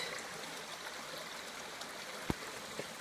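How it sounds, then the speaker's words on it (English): Faint, steady rushing of flowing water, like a stream heard from nearby on a trail in the Adirondack High Peaks, with a couple of soft clicks and no voices. "I could hear some running water"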